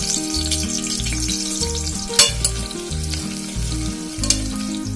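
Sliced onion fries in hot ghee and oil for a restaurant-style chicken biryani, a steady close sizzle with a few sharp pops and crackles and no voices.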